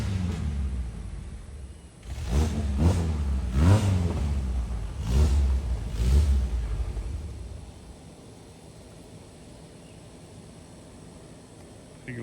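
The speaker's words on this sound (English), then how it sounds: "it's been a long time since I drove a yellow Volkswagen that had a sound like that" An air-cooled Volkswagen Beetle engine revs up and down several times, loud and close, then settles to a quiet idle.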